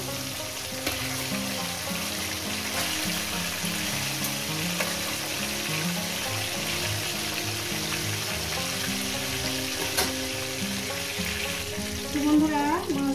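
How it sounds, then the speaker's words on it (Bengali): Nylon tikka fish sizzle and crackle as they fry in hot oil in a pan, a steady close hiss with occasional stirring clinks over faint melodic background sound. "একেবারে মাছগুলো ভেজে নিয়ে দিচ্ছি।"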